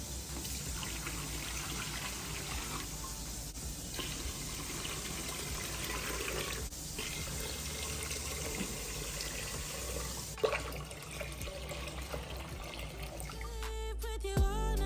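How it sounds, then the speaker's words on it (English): Water is poured into a DIY solar fountain basin, giving a steady close trickle and splash that runs for several seconds, with a brief clatter and some faint music toward the end. "then we can fill it with water"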